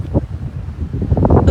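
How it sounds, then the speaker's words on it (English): Strong wind buffets the microphone outdoors in a vineyard, a low rumbling roar in uneven gusts that swell louder toward the end, with no talk. "It's very windy."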